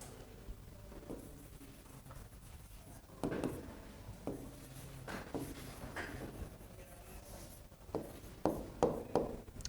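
Chalk or marker taps and strokes on a lecture-hall board in scattered bursts, with a cluster of sharp taps near the end, set against quiet room noise.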